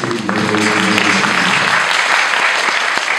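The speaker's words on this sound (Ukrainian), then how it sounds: "Оплески" An audience at a concert in Zaporizhzhia bursts into loud applause for a director; it starts over a fading musical tone and continues as close, dense clapping throughout.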